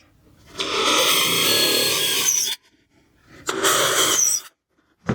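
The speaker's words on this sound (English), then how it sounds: "I'm going to drill in 2 of these corners, just shy of the corner so I'm not blowing out the edge of it." Power drill fitted with a 3/8 inch bit boring into wood for a camping chair's corner holes: two loud, steady whirring bursts, a long one and then a shorter one, separated by quiet.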